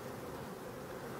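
Honey bees buzz in a dense, continuous drone around professional hives, a steady close hum with no talk.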